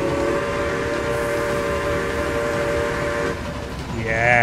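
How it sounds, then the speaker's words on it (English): In the Railway Empire video game, a steam locomotive labours up a hill, a steady chuffing rumble with a sustained whistle-like tone held near and fairly loud, easing slightly before a brighter tone rises at the end. "Sometimes it's nice just to watch the individual kind of locomotive on the go."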